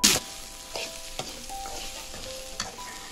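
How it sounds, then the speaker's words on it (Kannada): Onion, coriander seeds, black pepper and red chillies frying and being stirred in a pan, a steady soft sizzle with a few scraping stirs, close and without talk. "ಇದು ಫ್ರೈ ಮಾಡ್ಕೊತಿದ್ದ ಹಾಗೆ ಅದಕ್ಕೆ 5 ಟೇಬಲ್ ಸ್ಪೂನ್ ಅಷ್ಟು ಧನಿಯಾ, 2 ಟೇಬಲ್ ಸ್ಪೂನ್ ಕರಿಮೆಣಸು ಮತ್ತು 10 ರೆಡ್ ಚಿಲ್ಲಿ ಕೆಂಪು ಮೆಣಸಿನ್ಕಾಯಿನ ಹಾಕ್ಕೊಂಡು ಫ್ರೈ ಮಾಡ್ಕೊಬೇಕು"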